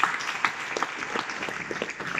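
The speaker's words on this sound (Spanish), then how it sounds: "Da un fuerte aplauso a Dios de tu estrategia." Audience applause at a children's day event with a clown, a steady patter of clapping from a modest group, fairly faint and even throughout.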